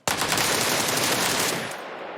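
Automatic gunfire in the battle royale game PUBG Lite: a sharp onset into a dense, continuous rattling burst lasting about two seconds, loud and close, then quickly cutting off.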